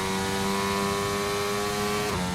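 Formula One cars from a 2001 Brazilian Grand Prix racing game scream down the straight, a sustained loud high-pitched engine whine with a slight pitch drop near the end.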